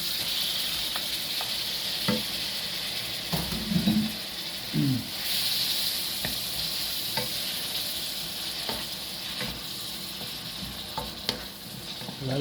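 Beef and garlic stir-fry in a hot pan with a steady close sizzle, broken by a few scrapes and clacks of a spatula tossing the meat.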